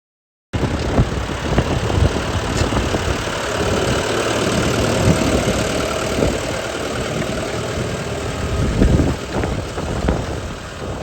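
A tractor engine chugs steadily at close range with a rough, knocking idle while pulling a simple implement of scarifier tines, ring rollers and a rear disc across a potato field; there is no talking.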